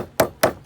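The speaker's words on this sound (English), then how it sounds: "we're literally hammering through the hinges" Fresh, irregularly shaped oysters cracked open at the hinge with a hammer: three sharp, close, evenly spaced metallic strikes with short gaps of quiet between them.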